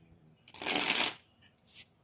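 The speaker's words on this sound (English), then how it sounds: "one more shuffle" A deck of tarot cards is riffled in one quick, crisp shuffle close by, with a brief soft card flick after; no one speaks.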